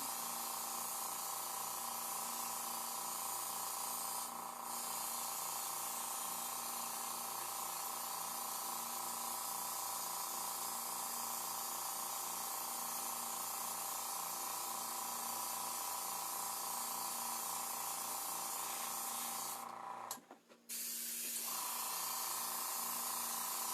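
Continuous close spray hiss with a steady mechanical hum beneath, from spray painting a zombie knee prop piece for Friday the 13th Part 7; the spray runs steadily for about twenty seconds, cuts out briefly, then resumes, with no talking.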